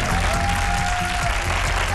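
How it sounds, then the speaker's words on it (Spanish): Studio audience applause on a Spanish late-night talk show, a dense steady wash of clapping filling the whole stretch at constant loudness. "Un fuerte aplauso."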